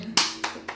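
A family claps at a dad's home birthday celebration, three sharp, close hand claps spaced unevenly over less than a second.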